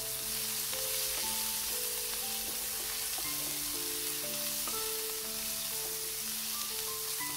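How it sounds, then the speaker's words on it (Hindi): Chopped onion and red chillies fry in oil, a continuous loud sizzle filling the whole stretch with faint stirring beneath and no voices. "प्याज को मैं थोड़ा लाल लाल करके फ्राई कर लूंगी"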